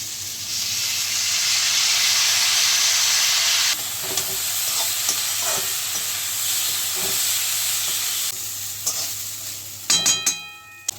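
Broken wheat goes into a hot pan with beans and capsicum for dalia upma, giving a loud, steady hiss of frying that drops off partway, then some stirring and a few clinks near the end.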